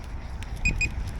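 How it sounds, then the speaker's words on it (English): A DEERC Challenger 2104 RC car, out on a winter run, gives two short, high electronic beeps close together, over a low outdoor rumble. "Hear it beeping, telling you it's time to come in"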